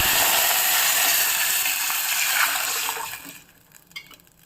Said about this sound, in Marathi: आपण आता त्याच्यात पाणी टाकणार आहोत.